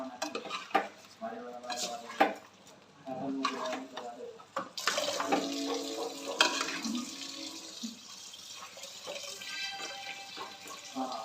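Telangana-style mutton curry stirred in a pot with a metal spoon, producing repeated clinks and scrapes against the pot over a soft sizzling, wet bubbling bed, close and moderately loud.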